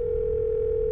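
In a horror video game about a possessed sister, a telephone sounds a single steady, loud electronic tone that holds unbroken for a full second against a low background hum.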